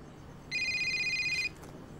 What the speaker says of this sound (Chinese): 家里来电话